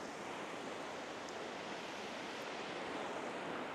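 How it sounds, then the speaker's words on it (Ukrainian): Water pouring into a pot of Ukrainian fish soup made from a pike-perch head, a steady broadband splashing rush that holds evenly throughout without pause. "я доливаю водичку"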